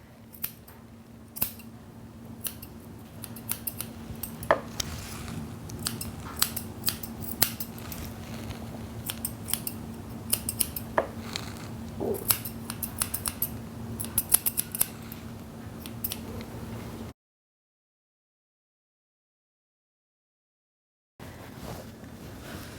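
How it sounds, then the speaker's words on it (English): Curved scissors snip steadily around a dog's paw, trimming the fringe in quick, crisp repeated clicks close up, with a short silent gap near the end. "Take your curved scissors and simply let those scissors cruise around the paw like that, trimming all that fringe away."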